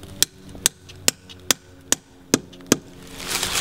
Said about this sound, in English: And when my hammer bounces, I know it's in far enough.